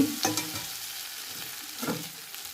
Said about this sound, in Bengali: আদা বাটাটা দিয়ে দিলাম। একটু নাড়াচাড়া করব।